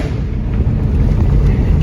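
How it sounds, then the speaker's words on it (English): A Chrysler 300 with a 5.7 HEMI and straight-pipe exhaust, catalytic converters still fitted, drones steadily at close range, loud and deep, thick with low-end roar and a slightly raspy edge. "The exhaust is all straight pipe,"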